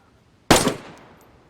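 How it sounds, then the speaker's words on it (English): A single loud, close M4 rifle shot in DayZ, a sharp crack with a short decaying tail, following near-silence and heard alone. "We will fire this AK in a minute, or M4 in a minute."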